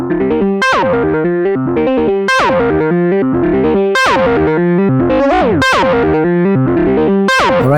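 A Novation Circuit Mono Station synth fed through a KORG nu:tekt OD-S overdrive pedal plays a loud, buzzing, distorted sequenced bass line with sharp repeating attacks and sweeping harmonics, heard alone without voices.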